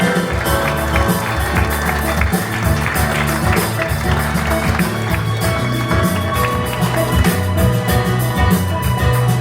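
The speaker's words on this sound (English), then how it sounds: "a big round of applause for all our lounge butlers and bar team" Guests aboard the MSC Preziosa cruise ship applaud the lounge butlers and bar team, with steady, lively clapping mixed into loud, rhythmic background music with a strong beat.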